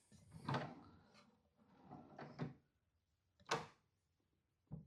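A soft-close drawer on a handmade wooden nightstand slides and settles shut in several quiet thumps and rumbles, spaced apart, close by with no talking.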